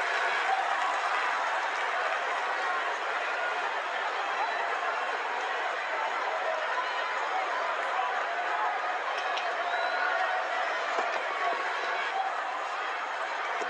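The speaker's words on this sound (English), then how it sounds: "And there comes the celebration, and the crowd loves it." Cricket crowd at an India versus New Zealand Test match roaring and cheering a wicket celebration, a dense, steady wash of applause and shouting that holds at full level throughout without a break.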